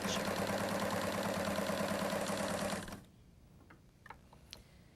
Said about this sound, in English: finish sewing the blind stitch